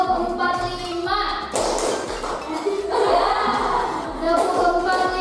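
A classroom of children claps hands together in short counted groups, broadband slaps arriving in bursts between a teacher's voice and children calling out.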